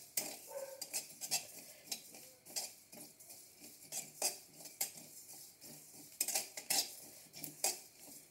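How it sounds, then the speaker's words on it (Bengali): A spoon scrapes and clinks steadily against a pan while nigella and mustard seeds fry, a quiet close-up run of irregular metallic taps and stirring scrapes with only a faint sizzle beneath. "দিয়ে দেবো 1 চামচ সরষে। ভালো করে নেড়ে চেড়ে একটু ভেজে নেব।"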